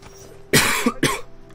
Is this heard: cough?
yes